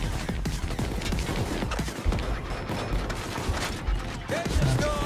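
Rapid gunfire rattles in the video game Payday 2 during a Reservoir Dogs heist, dense overlapping shots and mechanical clatter filling the whole stretch, loud and continuous.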